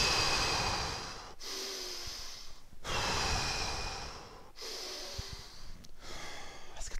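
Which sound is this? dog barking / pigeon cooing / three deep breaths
three deep breaths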